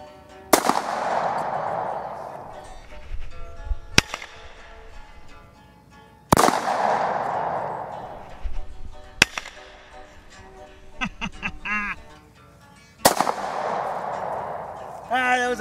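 A Bond Arms pistol loaded with shot shells fires at clay targets outdoors: five sharp, loud reports spaced a few seconds apart, each trailing off in a long echo, with faint handling noise between shots.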